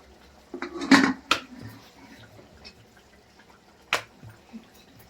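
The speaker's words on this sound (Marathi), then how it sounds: "अशी मोठी चपाती करू आणि याला मी वाटीनं कापून घेणार" A steel bowl presses through rolled methi puri dough against a board, giving a few sharp metallic knocks and scrapes, one cluster near the start and another later, close and fairly loud.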